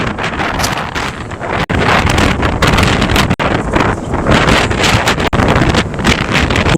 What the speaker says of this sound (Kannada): ಈ ಗಾಳಿ ಹೊಡಿತದೆ.